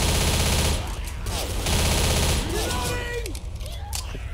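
Automatic gunfire from AI teammate Bill in the zombie shooter Left 4 Dead, a steady rattling burst under game noise with whooshing effects, loud and close throughout.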